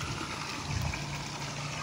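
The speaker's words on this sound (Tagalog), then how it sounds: "So yan yung dinidrain natin na tubig" Water drains from a farm into a taro field in a steady, rushing flow. The sound is close and continuous, a soft, even gush with no break.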